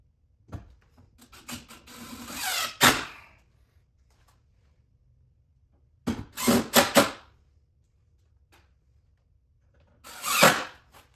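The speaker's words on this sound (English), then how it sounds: "we're gonna go ahead and screw from the holes underneath the tray to the slides" A power drill drives wood screws up through an RV basement tray into its slides, three separate bursts of whirring and grinding with quiet pauses between, close by.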